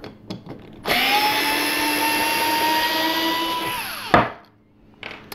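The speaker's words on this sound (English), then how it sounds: "we can pop it in reverse and take that right back out" A Dremel GO cordless screwdriver runs in reverse with a steady high motor whine for about three seconds, close and loud, then winds down and stops.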